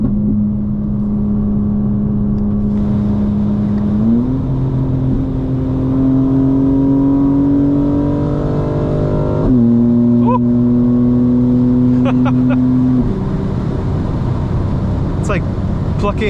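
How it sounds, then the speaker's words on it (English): A 900 hp 2025 BMW M4 Competition xDrive's exhaust drones loudly from inside the car at night, rising in pitch through the gears with sharp drops at each shift and crackles near the end. "It's like plucking a freaking harp of exhaust noises."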